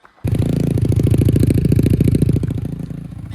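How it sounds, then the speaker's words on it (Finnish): Mini motocross bike engine with a small hole in the exhaust starts abruptly and runs with a rapid, rattly, buzzing putter, loud and close, then settles slightly quieter toward the end. "Mulla on pakoputkissa pikkuinen reikä, niin kuulostaa vähän tämmöstä."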